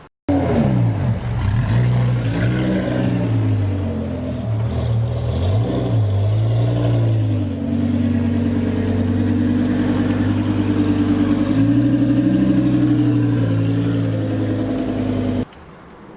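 Lamborghini Huracan Performante fitted with a Brooks race exhaust revs loudly close by, with sharp rising and falling blips before settling into a sustained high-rev drone that cuts off abruptly.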